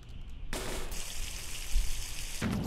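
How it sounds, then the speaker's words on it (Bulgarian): Water poured into a car radiator in the driving game The Long Drive, a steady splashing pour that starts abruptly, runs for about two seconds and then stops, heard alone and fairly close. "Дайте с тази вода да налеем в радиатора."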